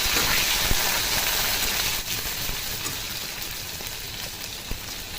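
Prawns frying in hot mustard oil in a kadai make a steady, even sizzle and hiss, close and continuous, with a few faint clinks from the pan.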